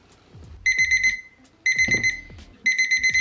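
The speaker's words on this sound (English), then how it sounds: "I needed proof to show that the timer stopped." A timer alarm beeps in three bursts of rapid, high-pitched pulses, with short quiet gaps and faint handling noises between them in a quiet room.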